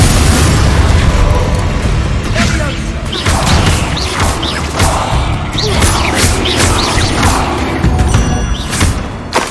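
Explosive spell blasts in the Hogwarts Legacy video game: a loud, dense barrage of booms, crashes and thuds rolling continuously under shouted incantations, with no quiet gaps throughout.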